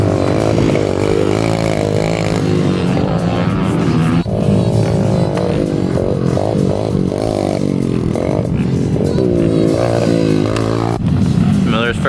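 A pit bike engine buzzes loud and close, rising and falling through revs while riding and jumping a small double on a dirt track, with brief scraping and clatter.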